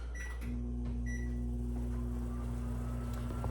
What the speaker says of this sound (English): Into the microwave. 90 seconds.